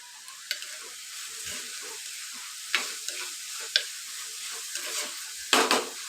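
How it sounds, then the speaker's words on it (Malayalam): Ingredients sautéing in a pan over a low flame for a tamarind-based Ayala (mackerel) fish curry, a steady soft sizzle broken by occasional sharp stirring scrapes and clicks, heard alone without talk. "തീ കുറച്ച് വെച്ച് വേണം വഴറ്റാൻ."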